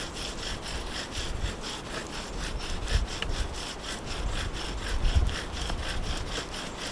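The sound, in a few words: bow drill spindle grinding on wood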